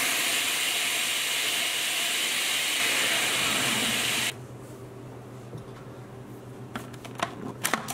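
A food processor runs on high speed grinding sesame seeds with a pinch of salt, a loud steady whirring hiss that cuts off abruptly midway, leaving quieter clattering and scraping.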